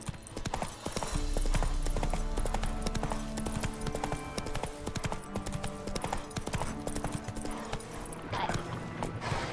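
Horse hooves galloping in The Witcher 3 video game, a fast rhythmic clip-clop of hoofbeats throughout, loud and close, with a brief whinny-like sound and game sounds mixed in.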